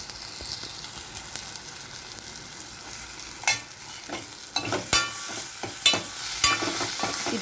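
Ingredients for a lentil-ball kuzhambu sauté in a pan, a continuous sizzle overlaid with a series of sharp stirring scrapes and clinks that grow busier toward the end.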